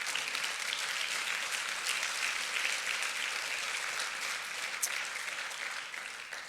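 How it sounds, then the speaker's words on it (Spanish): A church congregation applauds in steady, continuous clapping that fills the sanctuary at an even level, tapering slightly at the end. "denle ese aplauso al Señor"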